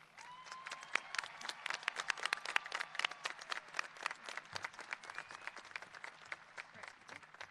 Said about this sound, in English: join me in a round of applause to the class of 2022